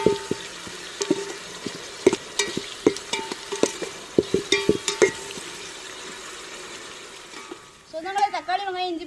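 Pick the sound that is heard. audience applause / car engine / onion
onion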